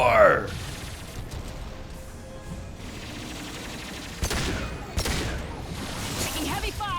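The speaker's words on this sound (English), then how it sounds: "Taking heavy fire!" Heavy gunfire in Mass Effect 2 on Insanity difficulty sounds over a low rumble as several sharp bursts of shots crack out near the end, with a player's voice talking through the fighting.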